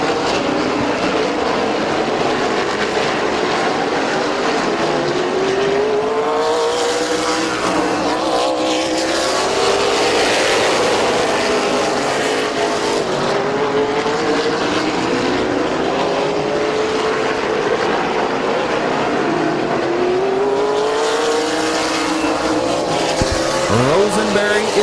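Race cars roar continuously around the Midvale Speedway oval, engines loud and rising and falling as packs pass, with a race announcer talking over the steady din.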